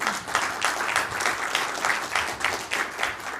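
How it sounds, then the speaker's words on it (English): An audience at a leadership and personal style talk claps steadily for about three seconds, a dense, even wash of hand claps with gentle pulsing swells and no voices on top. "Give yourselves a round of applause."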